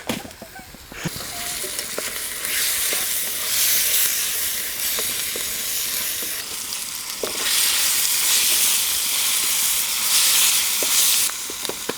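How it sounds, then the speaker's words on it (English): Onion sizzling and frying in a hot pan for Indonesian nasi goreng, a steady loud hiss that swells and fades with stirring and occasional clinks, no talking. "now that's starting to brown the onion a little bit"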